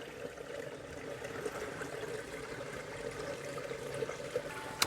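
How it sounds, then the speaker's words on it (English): Outdoor stream or creek flowing, a continuous soft rushing and trickling of water, steady and moderately close with no voices over it. "Beautiful stream here."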